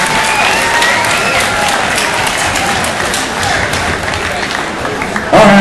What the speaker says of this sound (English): let's give a big round of applause for Kaylee